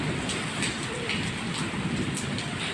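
Rain falls in a steady, dense hiss with pattering drops on a surface, continuous and moderately near, with no voices.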